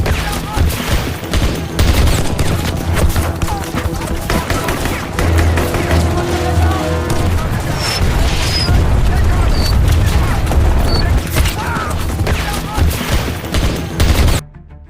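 Loud, sustained gunfire fills a film battle scene: dense bursts of automatic fire mixed with booming blasts. The firing runs almost nonstop before cutting off abruptly near the end, and indistinct voices are mixed in.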